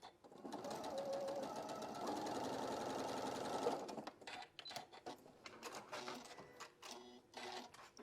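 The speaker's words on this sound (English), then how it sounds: "I'm just going to run a single stitch across that bottom there" A sewing machine runs a single stitch line at a 3.5 stitch length near a fabric fold, giving a steady mechanical whir for about four seconds before breaking into a choppier, rattling run of stitches, close and alone.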